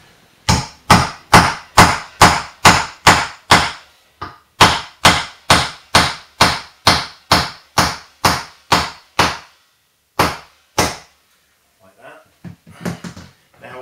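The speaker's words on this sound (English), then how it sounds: "we have our hammer, and what we need to do then is just bang the nail in" A hammer drives a nail into a wooden weather vane in steady, sharp, loud knocks, roughly two dozen blows in quick rhythm with a brief pause midway, then a few softer sounds at the end.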